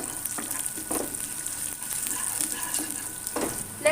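Chopped garlic and cumin frying in a pan for dhaba-style lasooni palak, a steady bright sizzle up close with a few soft stirring scrapes, no voices.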